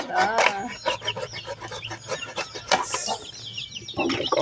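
Chickens and young chicks at a rural home, with close, busy clucking and chirping in quick irregular bursts, some wing rustling, and a voice talking at times over the birds.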